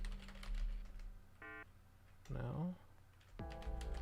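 Computer keyboard typing clicks along faintly beside short electronic beeping tones and a brief spoken voice, with a low steady hum underneath.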